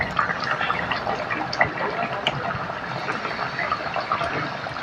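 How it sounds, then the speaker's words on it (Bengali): Mrigel fish curry broth at a rolling boil in a pan, a continuous bubbling, gurgling wash of liquid heard close and alone. "ঝোল ফুটে গেছে ঝোলটা ফুটে উঠেছে"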